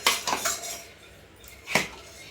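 Cooked ragi koozh porridge is moved into a vessel with metal utensils, making three quick clinks, a pause, then one more sharp clink.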